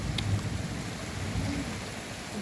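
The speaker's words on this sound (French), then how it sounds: "On a la pluie en train de tomber là, qui frappe la route" Dense, steady heavy rain pours onto a road during a strong summer thunderstorm in Montady, France, a continuous hissing wash of drops striking the hard surface, with a low rumble underneath.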